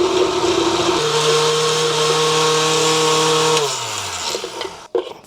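A blender whirs loudly and steadily as it mixes a smoothie with liquid added, holding a constant pitch before winding down and stopping near the end.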